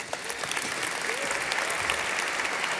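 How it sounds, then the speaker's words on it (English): Gala audience welcomes a guest to the stage for a fireside chat with a brief, steady round of applause from a large crowd, dense clapping filling the room. "Please welcome, with a round of applause, Bipul to the conversation."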